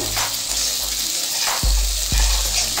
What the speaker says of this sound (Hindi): ये लहसुन अदरक और प्याज का पेस्ट फ्राई हो चुका है।